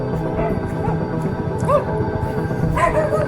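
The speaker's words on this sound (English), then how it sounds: "Whenever you encounter dogs" Dogs on a beach in Mui Ne, Vietnam bark, yip and whimper in short overlapping bursts at moderate distance, set against steady outdoor background noise.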